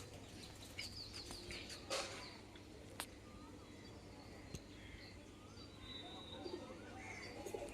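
Soft, intermittent cooing from a female pigeon in a Bengali pigeon loft, faint among hissy background noise and scattered chirps from other birds, with a steady low hum underneath.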